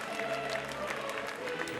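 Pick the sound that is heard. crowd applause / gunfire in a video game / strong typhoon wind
crowd applause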